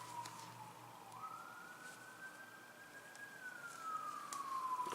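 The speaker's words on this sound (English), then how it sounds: "Sorry about the sirens." A siren wails in the distance, its single tone sliding up and then easing back down over a few seconds. It sounds steady and moderately faint against a low background hum, with no voices.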